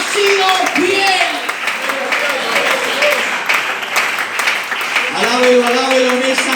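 Sustained applause from a church audience, a thick roar of clapping from many people that runs the whole time beneath an enthusiastic voice addressing the crowd.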